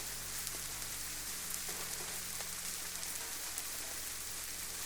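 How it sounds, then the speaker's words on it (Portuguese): Rain falls in a continuous, even hiss with scattered faint drop ticks, steady throughout over a low background hum. "E que o som da chuva leve o coração ao descanso profundo."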